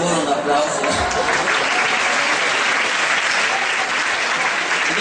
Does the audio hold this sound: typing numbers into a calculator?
no